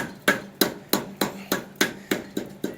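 Hammer tapping a part onto a 54-inch riding mower during maintenance, about nine sharp, evenly spaced strikes roughly every third of a second, close and fairly loud with no talk.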